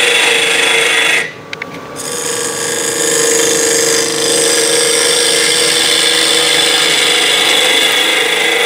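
A wood lathe cuts a tenon on a hollow vase blank: a steady, close rasping scrape of tool on spinning wood runs throughout, briefly dropping away early on before resuming at full strength.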